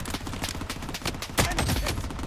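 Bursts of gunfire in the Blood Strike shooter game, a rapid crackling volley of overlapping shots at moderate distance, with one louder report in the middle.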